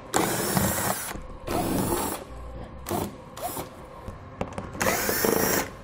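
A power tool spins off 5.5mm fasteners from the underbody panel of a 2017 Ford Edge, giving several loud, close whirring bursts of a second or so each, separated by short pauses.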